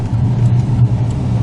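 Steady low engine hum and road rumble inside a moving car, even and fairly loud with no talk.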